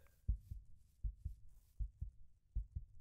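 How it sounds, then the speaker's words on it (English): Heartbeat effect in the Minecraft video game: low, thudding double beats repeating steadily about every 0.75 seconds, four pairs in all, fairly quiet, with no voices. "You wanna tell me why my heart's beating?"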